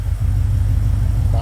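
Deep, steady exhaust drone from a Cadillac CTS-V fitted with an aftermarket full exhaust, valves open, rumbling loud and close for a brief moment.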